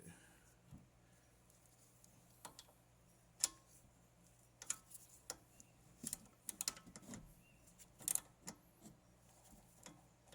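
Wrench being worked on the rear strut of a 2015 Toyota Camry, heard as quiet, irregular metallic ticks and clicks scattered over a low background hum, with no talking.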